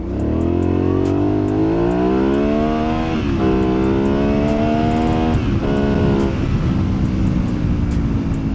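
A 2008 Aprilia Shiver 750 motorcycle accelerates on a city street, its engine loud and close as the revs climb, drop briefly at a gear change, then rise again under steady wind noise.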